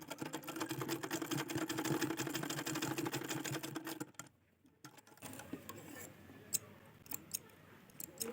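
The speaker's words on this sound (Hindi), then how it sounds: "इसी निशान पर सिलाई करूँगी" Electric sewing machine stitching along a marked line on a blouse, a steady fast whirring run for about four seconds, then it stops and only faint handling clicks and rustles remain.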